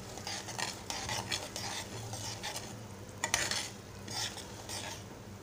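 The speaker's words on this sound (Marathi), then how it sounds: "आता आपल्याला रवा छान भाजून घ्यायचा आहे" Semolina roasting in a pan for sheera, with a spoon scraping and stirring steadily through a soft continuous sizzle, close and fairly quiet, with no voices.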